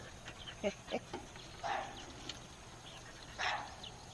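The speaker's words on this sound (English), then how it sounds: "Barking at you guys." At a campsite by water, a dog barks a few short, sharp times at middle distance, with quiet outdoor ambience around it and no talk.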